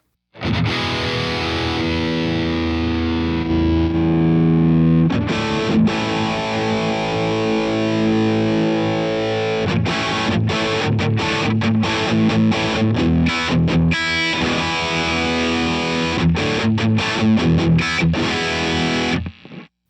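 Electric guitar played through a Universal Audio Dream 65 amp into a Creamback speaker, heavily distorted, with sustained chords in the first half giving way to choppy, stop-start strummed stabs, loud and alone.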